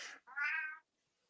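A cat gives a single clear meow, short and close, after a brief breathy sound, then falls silent.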